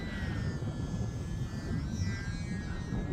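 A UMX Turbo Timber RC plane flying in wind, a steady, fairly faint whining electric motor drone with shifting pitch as it climbs in knife edge, under constant rumbling wind noise on the microphone.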